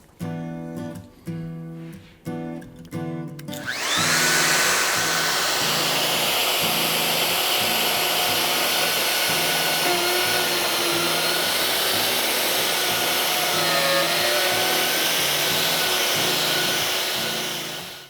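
A router fitted with a guide bushing and a hole-boring jig plunges through an MFT tabletop. A few short bursts give way to a loud, steady, whining roar that runs unbroken, close by, for about fourteen seconds.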